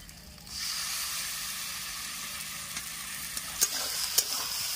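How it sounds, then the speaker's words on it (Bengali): Spices and grated tomatoes for a cauliflower roast fry and get stirred in a pan: a loud, steady sizzle starts after a short pause, with a few scrapes and clinks near the end and no voices. "মশলাগুলো কষিয়ে নিচ্ছি আমি"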